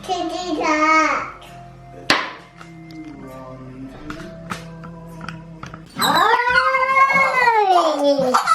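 A pet cat meows in a few drawn-out, wavering cries, with a louder, longer sliding meow near the end, heard indoors amid quiet kitchen sounds.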